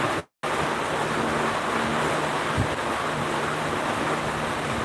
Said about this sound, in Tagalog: Dito, sobrang lakas ang ulan.